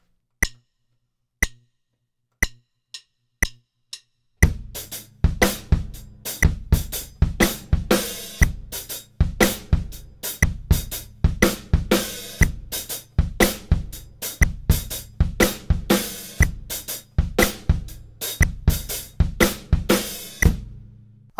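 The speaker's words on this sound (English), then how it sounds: "we're going to add the hi-hat, snare drum, and bass drum part all together." Drum kit playing a groove on hi-hat, snare and bass drum, opening with a few sparse count-in clicks, then a steady syncopated funk pattern of sharp snare and kick hits under constant hi-hat, close and loud.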